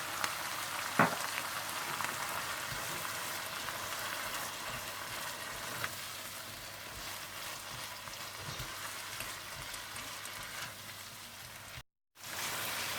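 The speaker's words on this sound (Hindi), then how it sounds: "सूर्ख मिर्च पाउडर, नमक, कुटा हुआ और भुना हुआ जीरा, कुटा हुआ भुना हुआ धनिया डालकर अच्छी तरह से भून लें।" Spices including turmeric, red chilli powder, salt, roasted crushed cumin and coriander frying in a pan for ginger chicken, giving a steady soft sizzle throughout with an occasional faint clink, then a brief dropout near the end.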